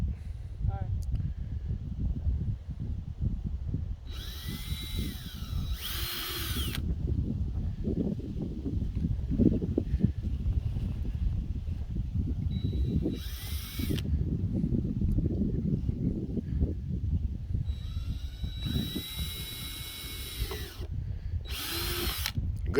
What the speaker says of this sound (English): Bryce, go ahead and drill the last one, okay?